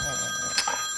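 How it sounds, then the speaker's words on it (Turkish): Mobile phone ringing with a steady electronic tone during a scene in a Turkish drama series, the tone heard briefly under faint background sound with a short click-like burst in the middle. "telefonun çalıyor"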